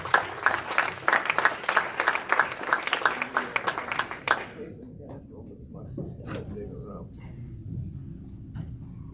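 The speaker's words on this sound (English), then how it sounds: "Bravo, big round of applause," A Rotary meeting audience gives a brisk round of rhythmic clapping for about four seconds, then it stops and people talk quietly in the room.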